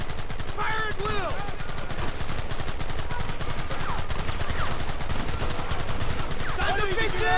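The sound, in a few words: gunfire in the video game Red Dead Redemption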